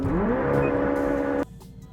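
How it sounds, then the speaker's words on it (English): A sports car doing a burnout to warm its tires at a drag race: a loud, close engine roar climbs, then holds a steady high drone before cutting off abruptly about halfway through. "Oh, he's doing a burnout."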